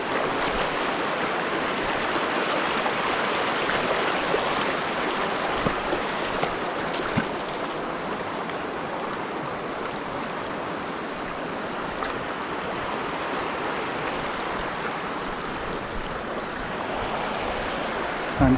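A strong river current rushes over rocks where fish and eels hide, giving a continuous broadband wash of flowing water that stays steady and fairly loud, with no talk.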